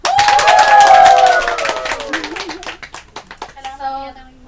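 Women in an audience at a presentation clap to welcome a speaker, with shouts and cheers layered over the clapping that taper into scattered claps, followed by a few spoken words.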